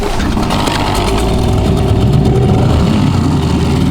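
Cold motor fired up on the first try in winter, running steadily with a loud, continuous close-up engine rumble throughout and no speech over it.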